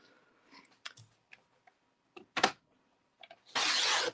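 A paper trimmer works through a sheet of 8.5 by 11 paper, with scattered soft clicks and taps as the paper is positioned, then a close, dry rasping slice of the blade at the end.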